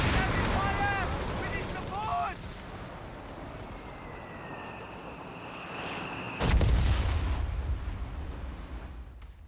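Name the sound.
Cannone artillery firing in video game Company of Heroes 3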